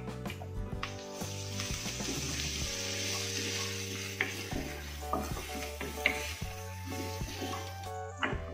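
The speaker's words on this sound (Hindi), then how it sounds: "फ्राई करेंगे थोड़ी देर। अदरक लहसुन का पेस्ट डालेंगे।" Ginger garlic paste frying in oil in a pan for a moringa drumstick curry, a steady close sizzle with stirring scrapes and occasional utensil taps, under background music.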